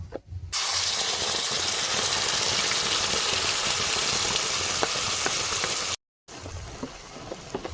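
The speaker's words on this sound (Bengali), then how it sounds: "তেল গরম হয়ে গেছে পেস্ট করে রাখা সোয়াবিন দিয়ে দেবো" Ground soybean paste drops into hot oil for a vegetarian fish curry, giving a steady, loud, hissing sizzle that runs unbroken for several seconds before a brief cut.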